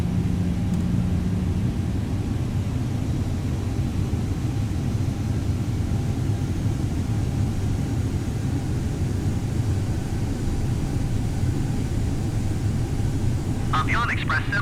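A Delta Airbus A320 jet at Orlando roars steadily as it takes off, a loud broadband engine rumble holding throughout, with radio chatter and a brief voice near the end.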